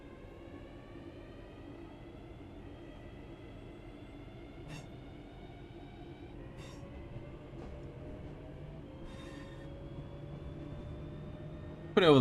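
In the Train Sim World 3 game, on the Birmingham Cross City line, a passing train makes a steady, droning rail rumble with rising tonal whine, faint clicks over the track joints, and a louder burst at the very end.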